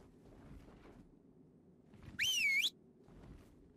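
A whistle command in the video game ARK sounds as a single bright, rising and wavering whistle tone, loud and clear, lasting about half a second over faint background noise.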